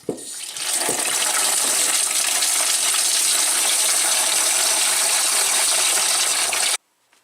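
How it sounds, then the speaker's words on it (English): Water rushes steadily from a bathroom faucet supply line into a bucket, a continuous loud hiss and splash lasting several seconds before cutting off abruptly. "Flush your supply lines into a bucket before you connect it to your faucet to get rid of any debris."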